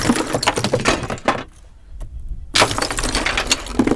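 Ice full of trapped compressed air cracking and bursting, a sharp crackling shatter followed by a brief lull and another burst of brittle cracks, close and loud.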